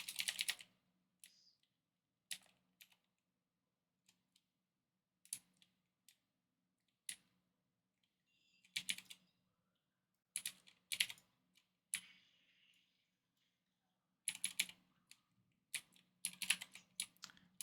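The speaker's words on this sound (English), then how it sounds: "Yeah, I can hear the clicks." Computer keyboard keys clack in irregular bursts of quick taps separated by quiet pauses, close and fairly faint, with no voices.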